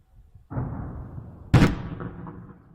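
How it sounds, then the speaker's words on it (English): Distant explosions from air defense fire near Kherson: a muffled boom with a long rolling tail, then a sharper, louder blast a second later that echoes away into quiet. "Here's some explosions in the distance."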